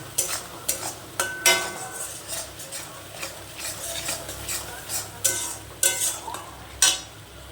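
Spice masala with chilli powder being stir-fried for a pabda fish curry, with a steady quiet sizzle broken by repeated sharp clinks and scrapes of a utensil against the pan.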